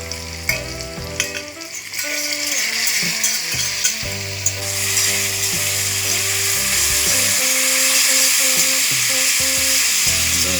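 Saltfish sizzles loudly in a pan of ackee mixture, a steady close frying hiss with clattering stirring and scraping of the utensil against the pan throughout.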